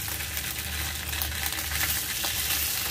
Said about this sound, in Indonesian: Kita balik, kita goreng lagi hingga sisi bagian ini juga kuning